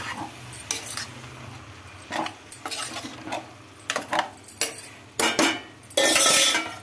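Broad bean curry is stirred in a pan, with a string of uneven metallic scrapes and clinks of the spoon against the pan and light sizzling underneath, ending in a louder, sustained scrape.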